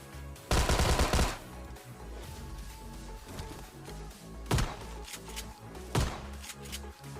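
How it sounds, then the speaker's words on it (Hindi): Gunfire in a battle royale shooter: a long rapid burst at the start, then two sharp single shots a few seconds apart, loud and close, with no speech. "देखो तो इसका तीसरा वाला बंदा पिस्टल से मुझे काफ़ी गंदा डैमेज करता है"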